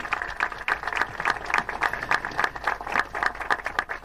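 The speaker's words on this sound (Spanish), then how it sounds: "ahí llega Analía, un aplauso para la flamante intendente electa" A crowd at a public works inauguration in San Martín applauds the newly elected mayor, with moderately distant, steady clapping from many hands that lasts the whole four seconds.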